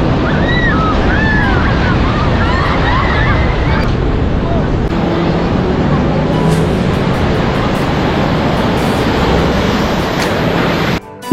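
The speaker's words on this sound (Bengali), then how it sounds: "এবং এখানে সমুদ্রের ঢেউও অনেক বেশি" Sea waves wash onto Gopalpur beach in a loud continuous surf roar mixed with wind buffeting and distant crowd babble, while voices talk nearby.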